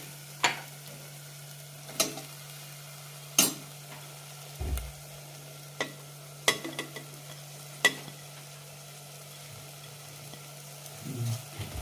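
Tomatoes, mint and coriander leaves stirred into a sautéing pan for Ambur kuska biryani, with several sharp spoon scrapes and clacks spaced every second or two over a quiet, low sizzle and a steady hum.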